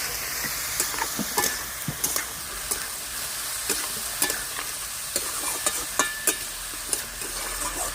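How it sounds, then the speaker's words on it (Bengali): Cauliflower stalks sizzle in hot oil with salt and turmeric, a steady frying hiss broken by repeated scraping stirs of a spoon in the pan, close and fairly loud with no voices. "তেলে ভালো করে গ্যাস ফুলের ডাটাটা ভালো করে ভেজে নেব"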